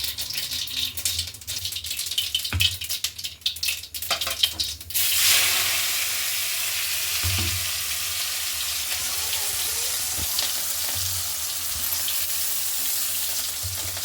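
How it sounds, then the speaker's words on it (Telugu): Spices and chicken masala fry in a pan with curry leaves, ginger paste, tomato, onion, coriander powder, chili powder and turmeric, starting with stirring rattles and then settling into a steady, close sizzle. "బాగా వేగాలండి."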